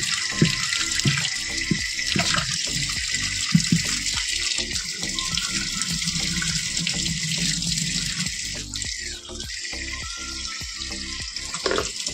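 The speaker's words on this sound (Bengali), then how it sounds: "কলে এখন জল রয়েছে, জল থাকতে সব ধুয়ে নিই" Tap water running into a sink as taro is washed, a steady close splashing stream with intermittent clatters and knocks of handling, no voices present.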